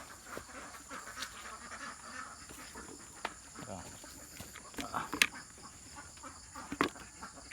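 Domestic ducks quacking in an enclosure where they have resumed laying eggs, a steady background of calls with a few louder sharp squawks, while someone talks over them.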